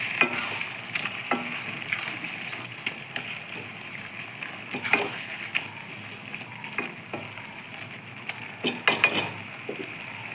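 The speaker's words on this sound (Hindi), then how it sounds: "मु रखी पियाज, टमाटो, कैप्सिकम को तागे पकईदेली" Mushroom curry with onion, tomato and capsicum frying in a pan during village-style cooking, with a steady sizzle and scattered clinks and scrapes of stirring throughout.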